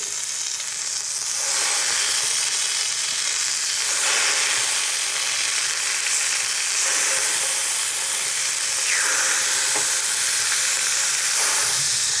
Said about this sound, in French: On dispose nos brochettes sur une plaque bien huilée.